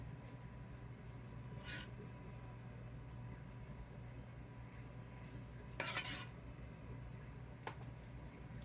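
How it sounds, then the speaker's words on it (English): A spoon gives Texas lasagna sauce a final mix in a pot, with low steady scraping and a few brief louder clinks and swishes, nearby and quiet with no talking. "give our sauce just one more good mix"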